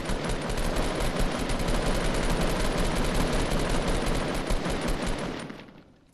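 Sustained automatic gunfire from a Fortnite match, a dense, loud, continuous rattle of rapid shots that runs nearly the whole time before tapering off at the end, with no talking over it.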